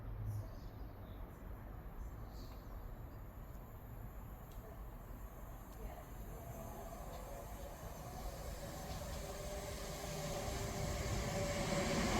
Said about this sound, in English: Arriving in now is the 12:23 Scotrail service from Cowdenbeath to Edinburgh Waverley